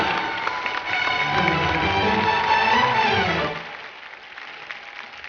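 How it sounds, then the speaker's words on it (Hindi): Studio audience on the Indian TV dance show Dance Deewane bursts into loud, sustained applause for actor Sonu Sood, with a dense clapping roar that cuts off and fades to a quieter room tail. "एक बार जोरदार तालियां सोनू बाजी के लिए।"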